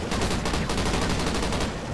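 Rapid machine gun fire in the video game Call of Duty: Ghosts, a dense, evenly spaced burst of loud shots running continuously without pause.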